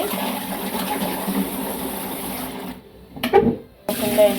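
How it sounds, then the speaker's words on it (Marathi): Soaked lentils are rinsed in water by hand, producing a steady wet swishing and rushing sound that drops away, followed by a couple of splashy sloshes as the water is stirred and poured. "आता आपण हे 4-5 पाण्याने चांगले धुवून घेऊ"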